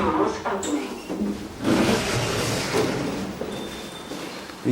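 Car park lift doors slide open at a floor, a steady mechanical rumble and rattle lasting several seconds, close and fairly loud, with a faint tone and some background voice.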